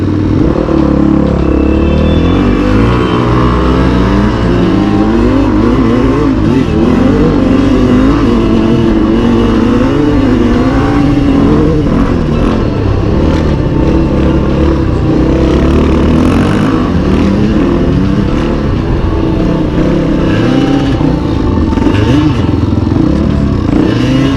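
A Honda CRF450X and a Kawasaki KDX200 dirt bike on a trail ride, engines droning and revving continuously up close and loud, with rising and falling throttle and rattling over rough ground.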